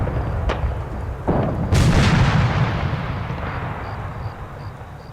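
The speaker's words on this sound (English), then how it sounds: "This is the area of town while the artillery is coming in." Artillery barrage hitting a town in the video game Arma 3, several heavy booms and blasts in quick succession, one large rumbling impact near the middle, trailing off into a fading roar.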